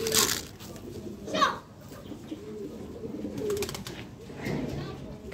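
Pigeons coo softly and repeatedly while feeding on lentils scattered outdoors, with occasional wing flutters and a louder burst near the start, and someone talks intermittently over the birds.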